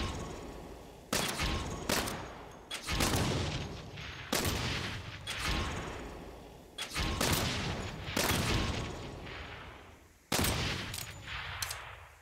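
Gunfire in the video game Saints Row: a series of heavy, booming shots and short bursts, each landing loud and close before trailing off in echo, spaced irregularly about a second or two apart.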